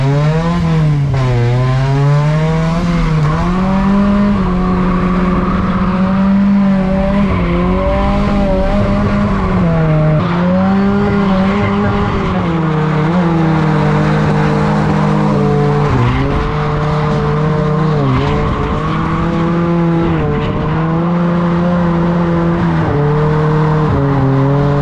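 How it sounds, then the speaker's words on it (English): A custom-built Volvo 740 converted into a ute drift truck screams through a continuous drift, its engine note rising and falling steadily while the tires squeal loudly and close for the whole stretch, with no talking. "Been having a good time in the custom built Volvo drift truck today"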